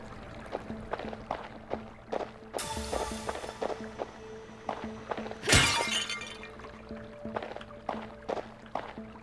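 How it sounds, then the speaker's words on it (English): Pots smash in a video game, with two loud bursts of shattering among a steady run of small ticking and dripping game sounds, no talk. "So we're gonna go around smashing pots to see which things have treasure in them."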